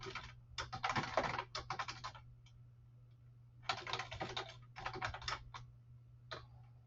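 Code is typed on a computer keyboard in quick bursts of close, crisp key clicks, separated by short pauses, with a faint low hum underneath and no talking.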